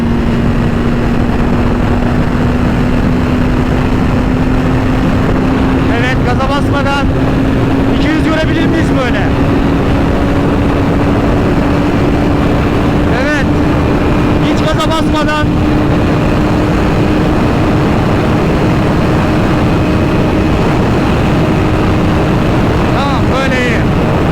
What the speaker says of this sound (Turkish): Gaza basmadan hızlandırıyorum motoru.